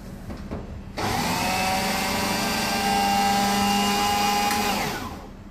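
A food processor blitzes spiced apple cake mix on high speed, a loud steady motor whir that starts abruptly after a second, holds for about four seconds and then winds down.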